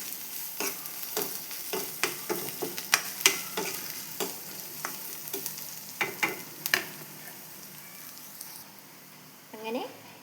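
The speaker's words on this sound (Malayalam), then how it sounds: "അങ്ങനെ എൻ്റെ വറ്റൽമുളകും ഉള്ളിയും വഴന്നു ചുമന്ന കളറായിട്ടിട്ടു." Dried red chillies and onion fry in a pan for a home-style drumstick leaf curry, a steady sizzle broken by repeated scraping stirs and clicks of the utensil against the pan.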